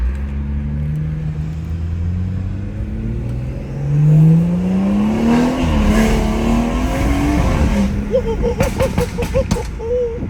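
A stage 2 tuned BMW 340i accelerates on a night drive, its engine droning and rising steadily in pitch through a gear, loud from the cabin, with a person talking briefly near the end.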